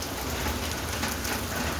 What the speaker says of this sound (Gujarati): વરસાદની હેલી શરૂ થઈ ચૂકી છે